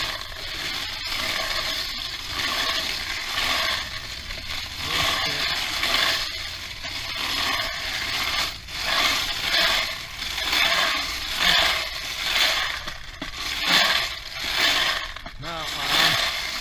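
An ammunition reloading press is cranked by hand in a workshop, giving repeated mechanical clicking and ratcheting strokes in a steady rhythm at close range, fairly quiet overall.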